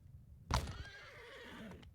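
A horse in the Mount & Blade 2: Bannerlord video game lets out a sharp, close neigh that trails into a fluttering whinny, with faint hoof clops beneath it.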